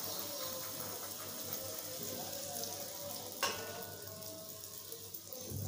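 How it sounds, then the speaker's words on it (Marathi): Puris deep-fry in hot oil with a close, continuous bubbling sizzle and a single sharp clink partway through, with no talking. "याप्रमाणे आपल्याला सर्व पुऱ्या तळून घ्यायच्या आहेत।"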